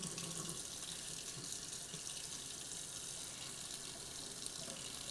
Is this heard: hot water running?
yes